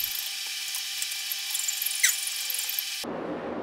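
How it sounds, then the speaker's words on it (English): An abrasive cutoff disc grinds into 1¾-inch 1045 steel round stock with a sustained high, whining, gritty screech that stops abruptly near the end, leaving a faint low rumble. "a cutoff disc doesn't quite get to the center of this round stock when cut from all sides"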